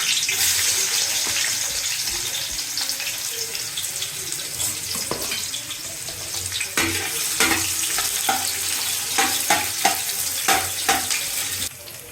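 Onions frying in hot oil for homemade chicken biryani give a steady, fairly loud sizzle with clattering stirring scrapes, sustained throughout with no talking.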